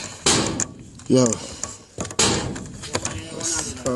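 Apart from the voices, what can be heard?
door being pulled shut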